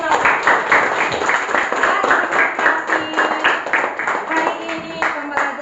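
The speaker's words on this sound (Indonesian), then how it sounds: "tepuk tangan dulu untuk Nafa" Classroom applause for a student named Nafa, a steady patter of many hands clapping together across the whole stretch, fairly close and moderately loud, with some voices mixed in.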